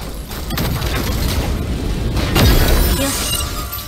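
Sharp bursts of loud gunfire with a boom near the middle, dense and chaotic, from the video game Super Mecha Champions.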